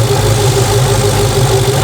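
A naturally aspirated Dodge Hellcat V8 idles close by, a loud, steady, deep rumble with a lumpy low throb and no voices.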